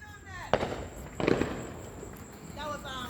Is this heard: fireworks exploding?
yes